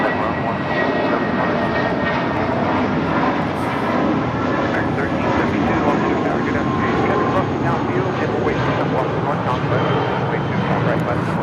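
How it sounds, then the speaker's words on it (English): A JetBlue Airbus A320 departs LAX for Las Vegas with a loud, steady jet-engine roar that holds without letup, and a voice talks faintly beneath it. "This is JetBlue 1180 departing to Las Vegas on the A320."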